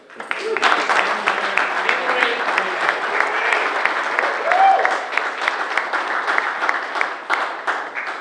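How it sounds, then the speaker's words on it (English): Guests at a wrestling hall of fame dinner give a sustained round of applause, loud, dense clapping from a full room holding steady throughout, with some voices mixed in beneath. "So first, we have to give Dave a round of applause for Rachel."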